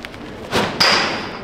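A lacrosse shot strikes the net during a fastest-shot contest, giving a sharp thud followed by a ringing rattle that fades over about a second.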